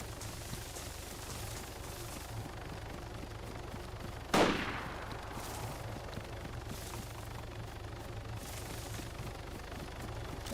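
A single loud gunshot cracks out in the online survival game DayZ over steady ambient wind and background noise, with no other shots following.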